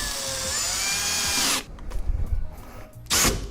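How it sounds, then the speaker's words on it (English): Power drill driving screws while a Schlage Encode Plus smart lock is installed on a door: a loud, steady whir that ramps in pitch for about a second and a half, stops, then a second short burst near the end. "And tighten these screws down."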